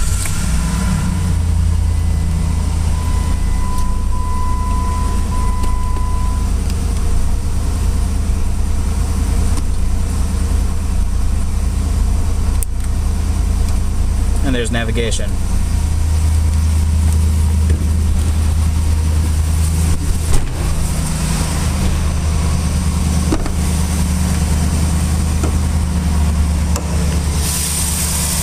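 A 2006 Jeep Commander with a 4.7-liter V8 sits idling, a steady low engine drone that stays loud and even throughout, with a brief voice speaking once and a few small clicks and knocks near the vehicle.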